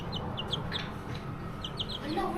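Roosters cluck in short, repeated bursts nearby, a busy farmyard chatter over a low background hum.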